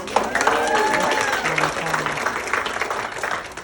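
An audience at a sharing session applauds, a burst of many hands clapping that stays loud and steady, with raised voices and cheers mixed into it.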